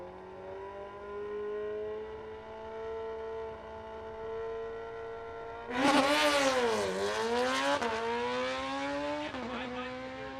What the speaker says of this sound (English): 911, 147 miles per hour for Michael Baker on the Suzuki Hayabusa